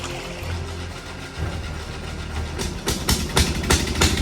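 An old ride-on lawn mower tractor engine runs with a low, rough, steady chug that strengthens partway through. Sharp mechanical clacks come through near the end.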